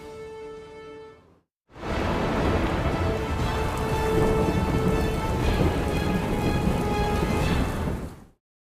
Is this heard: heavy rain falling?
yes